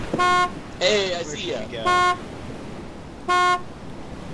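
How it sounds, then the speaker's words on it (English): A car horn honks three times in DayZ, short, loud, even blasts spaced about a second or more apart, with someone speaking briefly between the first two. "I'm just like honking at you."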